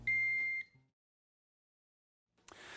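A Megger MIT400 insulation tester sounds its warning buzzer, a single loud, steady electronic beep tone lasting about half a second, then silence before a burst of noise.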